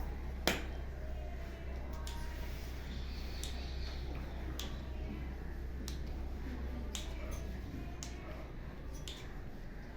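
Children taking turns clapping in a classroom counting game, a few sharp isolated claps and snaps spaced irregularly over a quiet room with a low steady hum underneath.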